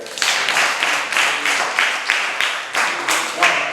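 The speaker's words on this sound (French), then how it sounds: "Est-ce que vous applaudissez?" A group of children in a school classroom clapping loudly in bursts, the applause swelling and pausing in several rhythmic waves, close by, with a few voices mixed in.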